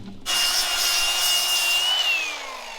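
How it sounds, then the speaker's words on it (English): A power grinder dresses a metal edge smooth, a loud, steady high-pitched whine with abrasive rasp that holds evenly, then drops slightly in pitch as it winds down near the end; no voices. "I just wanted to grind that so it's a little sharp so I don't cut my mittens."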